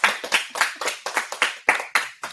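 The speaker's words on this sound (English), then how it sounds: "Give them a round of applause," Round of applause for a podcast guest, an attorney: about ten quick bursts of hand claps, fairly close, from a small group with no talking.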